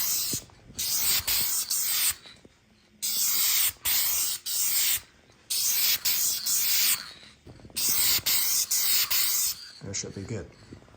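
Aerosol spray paint hissing onto an RC snowmobile headlight assembly in four loud, close bursts of roughly one to two seconds each, separated by short pauses, the last burst fading into softer handling noise.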